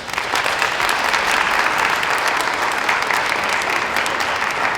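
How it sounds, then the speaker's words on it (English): An audience at the official opening of a Hispanic leadership summit in New Jersey breaks into loud, sustained applause, dense clapping filling the hall without pause. "Please give them a round of applause."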